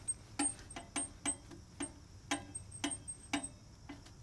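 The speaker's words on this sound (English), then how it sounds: "What you're hearing is the backside of the brake there." A trailer hub on an RV spins and rubs against the backside of its brake, giving faint, irregular ticking clicks, about a dozen over a few seconds, quiet and close with no talk.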